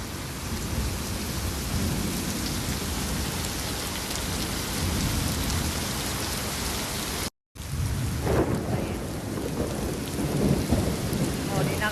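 Heavy downpour in the Philippines, a dense, steady roar of rain with low rolling thunder throughout, broken by a momentary total dropout before the storm noise resumes, loud and close with no voices.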